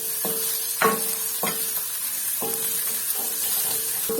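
Small chopped shrimp stir-fried briefly in a pan for hot and sour soup, a soft steady sizzle under a handful of sharp scraping stirs and clinks of a spatula, close up, no talking.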